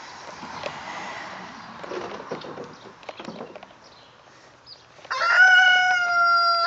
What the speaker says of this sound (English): I think he sounds like an elephant, Mick, when he crows